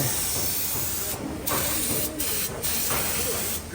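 Loud, steady hiss of spray painting a vehicle at a bus-building factory, broken by a few short pauses as the spray gun stops and restarts.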